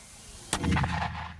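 A single sharp 60 mm mortar launch, a loud thump with a brief rumbling tail that fades quickly.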